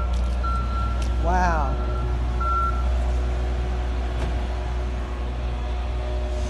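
A truck reverses nearby with repeated backup beeps sounding over a steady low engine rumble outdoors, while a voice briefly exclaims.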